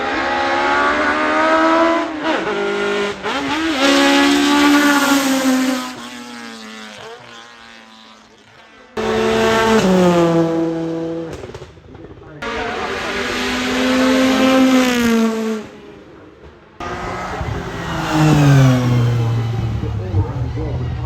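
Race cars at the Goodwood Festival of Speed accelerating hard, engines rising in pitch through gears in several loud passes separated by brief gaps, with commentary running over them.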